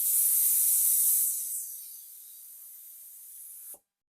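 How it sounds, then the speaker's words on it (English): Air hisses out of a tire valve stem as a valve core tool presses it down: a loud, sharp spray that softens after a second and a half, then continues steadily before stopping abruptly. "you're going to press it down to release the pressure"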